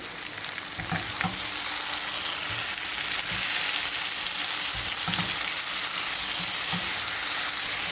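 Methi chicken curry sizzles and fries steadily in a pan, with occasional stirring scrapes over a dense, continuous crackle and no voices.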